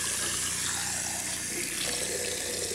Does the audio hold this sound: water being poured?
yes